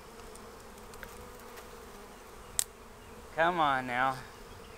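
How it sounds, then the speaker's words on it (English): Honey bee swarm clustered on a tree limb, a steady near buzzing hum throughout, with a brief sharp click midway and someone speaking briefly near the end. "I'd like to break this limb, but I'm afraid of jarring the bees too much and sending them off."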